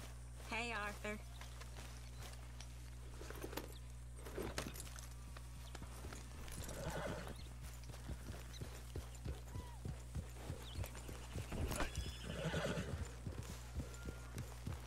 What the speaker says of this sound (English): Get on the horse over here.